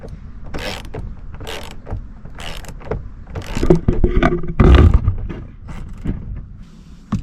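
Ratchet wrench with a 10mm socket on an extension working a bolt loose on a Chevy Sonic, giving a run of clicking, creaking mechanical strokes that grow louder and denser midway before easing off, with no talk.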